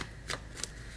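Tarot cards shuffled in a single brief burst, two quick riffling snaps close to the listener, quiet and alone with no talk.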